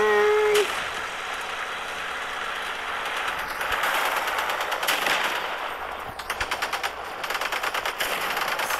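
Car-mounted gun firing in the vehicle combat game Crossout, a sustained roar of rapid automatic shots that turns into distinct pulsing bursts near the end, loud and close, with a brief tone at the start.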